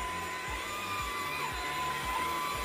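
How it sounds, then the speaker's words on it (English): A Dreame V11 cordless vacuum cleaner runs with a steady whirring hum and a faint high whine, its low tone dipping in a few regular pulses, heard alone and fairly quiet. "She can handle a vacuum cleaner."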